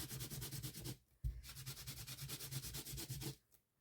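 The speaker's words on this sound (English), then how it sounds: "I'm just going to get a wipe for the stencil, because if I don't rub it off now, it's going to go everywhere." Wet paint is wiped off a craft stencil with a wipe: steady, close scrubbing strokes in two long passes, broken by a brief pause.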